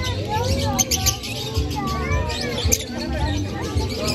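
Small birds chirp steadily at close range, a dense chorus of thin tweets layered over a background murmur of voices.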